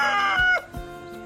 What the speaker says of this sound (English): Blue-laced red Wyandotte.